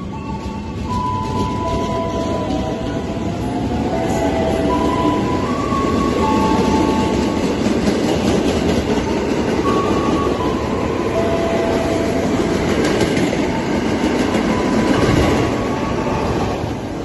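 A train rolls through Klender station at night with a loud, sustained rumble, rattling wheels and brief metallic squeals, heard close and steady for the whole stretch with no voices.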